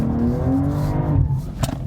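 BMW M240i, an all-wheel-drive coupe, revving hard as it tries to slide sideways into a drift. The engine note climbs and wavers loud and close for under two seconds, then drops away.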